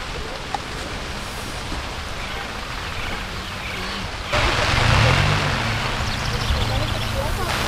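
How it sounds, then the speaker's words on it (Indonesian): Rain driven by wind falls on a cold, muddy campsite at Ranca Upas, Ciwidey, a constant dense patter that grows louder with a gust halfway through, with voices faintly present. "lagi-lagi campingnya kena hujan. Dan kali ini hujannya agak cukup angin."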